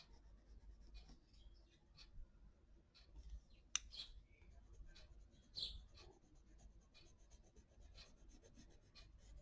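Pencil scratching and rubbing across lightly grainy drawing paper, soft irregular strokes with a few sharper ticks, quiet and close.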